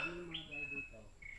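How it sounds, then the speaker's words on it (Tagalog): Birds chirp in short, high tweets against a quiet background on a mountain hiking trail in Montalban, Rizal, a few calls spread across the moment, soft and somewhat distant. "ang sarap pakinggan yung huni ng ibon"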